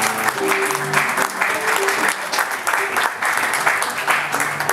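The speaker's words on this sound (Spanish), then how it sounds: "Para toda la gente de Uruguay," An audience at a tango event in Uruguay gives loud, sustained applause that rises and falls in waves, with voices and some tonal sounds running underneath.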